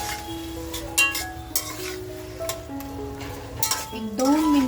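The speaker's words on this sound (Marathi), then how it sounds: "कोळंबी बघा आपल्याला छान अशी मसाल्याबरोबर परतवून घ्यायची आहे" Prawns stirred and sautéed with masala in a home kitchen pan for a prawn biryani, with steady sizzling under scraping and clinking of utensils against the pan.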